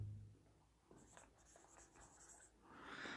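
Marker or chalk scraping across a board during an Arabic grammar lesson, a run of short squeaky strokes, close and fairly quiet, with a brief voice at the start.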